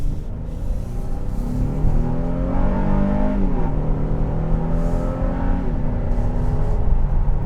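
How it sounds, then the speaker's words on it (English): A 2019 Honda Pilot accelerating hard in sport mode, its engine droning loud and steady from inside the cabin, pitch climbing with rising revs and a brief shift dip midway before it pulls again. "It'll get up and go for a big vehicle, and in sport mode it is holding the RPMs a little bit higher"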